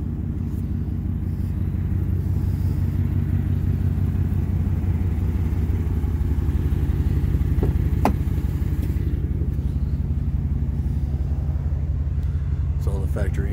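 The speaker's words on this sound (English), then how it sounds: "dual exhaust on it." Ford truck with an aftermarket dual exhaust idling, a continuous deep throbbing rumble with a steady pulse, loud and close throughout, while someone talks over it.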